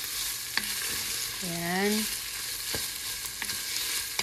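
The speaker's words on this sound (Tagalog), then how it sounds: "naggisa ako ng karne, sibuyas, bawang at saka luya" Meat, onion, garlic and ginger sautéing in a pan, giving a continuous close frying sizzle with occasional sharp clicks of a utensil. A voice speaks a single short word partway through.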